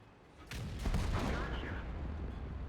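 Tank cannon fire from an IS-3 in World of Tanks, a single booming shot with a sharp onset followed by a sustained rumbling tail of battle noise.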